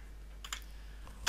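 A few quick keystrokes tap out a command on a computer keyboard, close and quiet, against a low steady hum.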